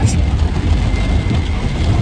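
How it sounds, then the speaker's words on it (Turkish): Heavy rain drums on a car during a driving lesson, a dense steady wash with strong low rumble filling the whole moment, close and loud with no clear voices over it. "yağmura bak"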